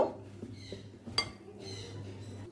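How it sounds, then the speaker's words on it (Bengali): Flour being mixed into paneer pieces in a bowl for chilli paneer, heard as soft scraping and stirring with a few light utensil clinks against the bowl and one sharper click midway, close and fairly quiet with no talking. "দিয়ে দিচ্ছি ভর্তি 1 চামচ ময়দা। ভালো করে পনিরের গায়ে মিশিয়ে নেব।"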